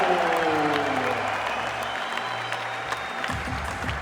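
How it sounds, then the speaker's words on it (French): An arena crowd applauds a French basketball legend in a dense, continuous wash of clapping, with tonal arena sound and faint cheering mixed in. "Mesdames et messieurs, vos applaudissements pour nos légendes du basket."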